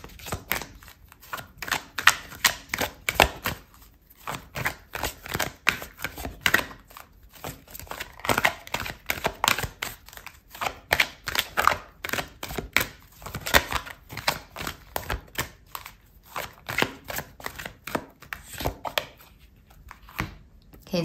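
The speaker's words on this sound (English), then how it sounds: "I'm going to pull out another card for you" Tarot cards are shuffled in a long, steady run of brisk, close riffling and slapping, continuing for about twenty seconds with no talk over it.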